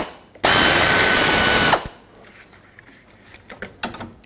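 A power tool spins out one of the two 12mm bolts on a radiator bracket of a 2003-2008 Subaru Forester: a single loud, close whir of about a second and a half, then quiet shop noise.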